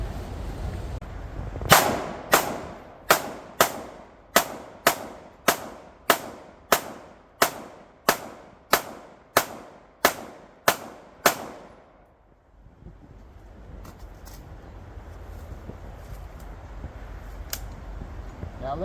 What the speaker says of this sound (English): that's a mountain that goes up, and so I shoot down